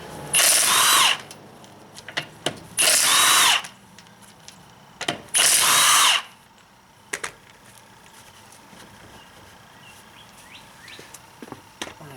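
A power tool spins off the wheel bolts on a BMW 3 Series, three loud bursts of impact-gun whirring about a second each, with short clanks and clicks between them and after.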